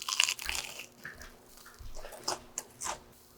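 Someone bites into a crispy perilla leaf and radish pancake dipped in sauce, making several close, crunchy bites and chewing crackles in an uneven rhythm with no talking.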